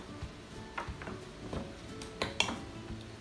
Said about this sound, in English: giving this a rough stir because the seasoning really gets in when we're cooking it